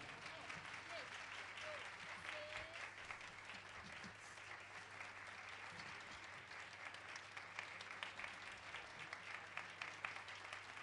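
An audience at a children's concert at a music school claps steadily for several seconds in a sustained wave of applause, with faint voices underneath.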